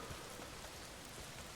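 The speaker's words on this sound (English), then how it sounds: "A lot of it's pissing down rain." Heavy rain pours down in the video game Days Gone as a soft, continuous hiss with no voices.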